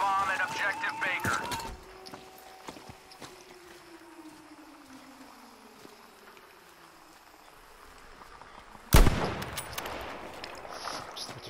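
Gunfire in a shooter video game played on the Karg Jorgensen map, with a sharp loud burst near the end after a quieter stretch of ambient game sound, while a player talks over parts of it.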